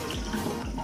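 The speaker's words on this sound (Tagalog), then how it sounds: "lumabas na yung tubig" Water gushing from a repaired tap, a brief continuous rushing stream heard up close and fairly loud, with no talking.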